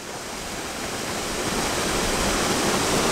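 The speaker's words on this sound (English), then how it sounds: "And then there's a final final little waterfall." A small waterfall pours through a foot-wide mountain creek channel in a canyon, giving a steady loud rushing wash that swells slightly toward the end and stays close and continuous.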